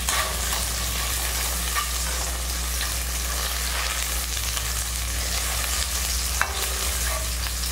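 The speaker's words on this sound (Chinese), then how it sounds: "我们只要是炒出它的焦糖味就好了" Sugar stir-fries in a wok until it caramelizes, giving a continuous loud sizzle over a steady low burner hum, with occasional scraping from stirring and one sharp clink near the end.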